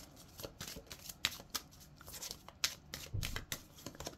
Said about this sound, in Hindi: कार्ड भी कैसे, अभी शफल कर लेती हूँ ना